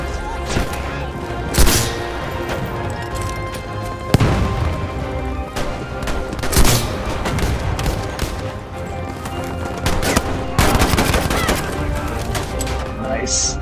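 Gunfire from a MAS 44 rifle in the video game Battlefield 5, rapid shots and bursts mixed with explosions and game noise, loud and continuous throughout with several sharp peaks.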